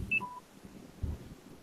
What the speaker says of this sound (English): someone's phone's dying.